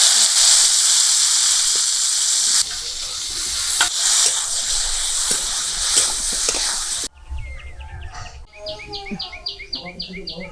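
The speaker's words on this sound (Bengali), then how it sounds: "নিম বেগুনের জন্য বেগুনগুলো প্রথমে ভেজে নিচ্ছি।" Eggplants for neem begun fry in oil in a village kitchen, with a loud, dense close sizzle and occasional stirring knocks that cut out partway through, followed by quieter outdoor ambience with chirping birds or insects.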